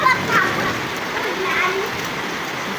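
Steady rain falls in a dense, even hiss, with children's voices chanting and talking over it throughout.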